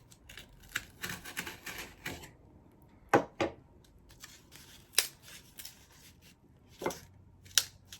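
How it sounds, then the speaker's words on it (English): Sharp irregular snips and crunches of a knife or scissors cutting into a piece of cardboard, with several louder cuts standing out above quiet handling noise. "get a knife or scissors, and then you make a cut in the cardboard"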